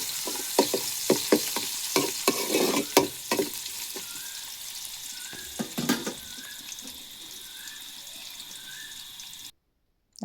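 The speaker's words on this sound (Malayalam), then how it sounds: "ഇഞ്ചിയും വെളുത്തുള്ളി ഇട്ടിട്ടുണ്ട്, കടുകും ഉലുവയും പൊട്ടിച്ചിട്ട്, പിന്നെ സവാള ഇട്ടിട്ടുണ്ട്, പിന്നെ പച്ചമുളക് ഇട്ടിട്ട് വഴറ്റിയെടുക്കുകയാണ്" Ginger, garlic, onion and green chilli sauté with popped mustard and fenugreek seeds in a pan, a busy close-up sizzle broken by repeated sharp stirring clatters and crackles before it cuts to silence.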